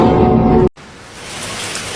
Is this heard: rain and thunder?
yes